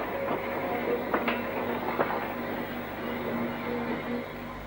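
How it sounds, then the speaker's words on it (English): A BR 9F steam locomotive fitted with a Barclay mechanical stoker hauls a train of mixed coal empties in the 1960s near Banbury, giving a steady rumbling roll with wagon clanks and rail clicks, fairly close. "One of only 3 9Fs fitted with a Barclay mechanical stoker was 92165."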